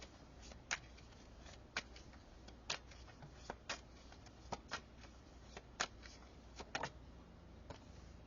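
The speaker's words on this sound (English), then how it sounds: "Let me shuffle these." Crisp papery snaps and riffles of tarot cards being shuffled, in irregular bursts separated by brief pauses, close and fairly quiet.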